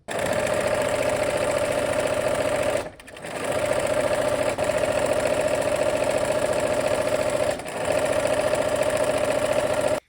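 A sewing machine stitches fabric in a steady, even hum at close range, running in long continuous bursts broken by two brief pauses, with no talking.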